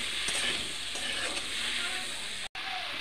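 Spices, including dried fenugreek leaves, fry in butter in a pan with a steady, close sizzle and occasional stirring scrapes, briefly cut by a momentary dropout near the end.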